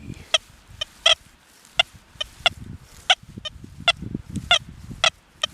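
A series of short, sharp electronic chirps from a metal detector on a weak deep target signal, using a fast program at reactivity 3, repeats at an irregular pace over a low rumble of background noise.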